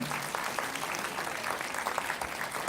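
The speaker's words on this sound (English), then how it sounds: "How about a round of applause to Toastmaster Sean?" An audience at a language arts competition applauds a toastmaster with steady, even clapping throughout, a busy room-wide patter.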